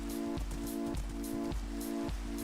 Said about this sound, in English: Dude, this rain is actually a pain.